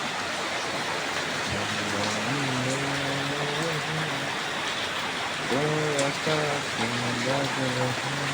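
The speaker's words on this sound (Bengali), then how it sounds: "দেখি তো কেমন বৃষ্টি হয়" Steady rain hisses throughout, with voices talking over it at moments.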